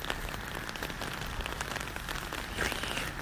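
Steady rain falling and pattering on surfaces, a dense, continuous patter of drops held at an even level throughout with no voices.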